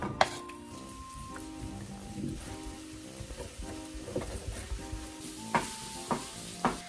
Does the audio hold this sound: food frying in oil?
yes